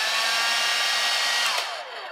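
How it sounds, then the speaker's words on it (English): A household hair dryer blows steadily at close range, a loud continuous whooshing motor-and-air roar that tapers slightly near the end. "a hairdryer uses electricity, plug it into the wall, and then we turn it on"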